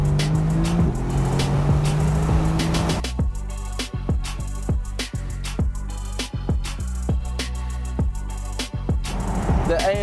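A Mercedes-AMG GT on the road gives a deep, loud engine roar that runs steady, then shifts into a rhythmic pulsing drone with repeated sharp changes as it accelerates.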